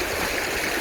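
A mountain river rushes in a steady, broadband wash of flowing water, close and continuous for a brief moment with no voices.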